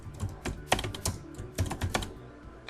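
Someone types a report template name on a computer keyboard, a quick run of close, crisp key clicks in irregular bursts with no talking.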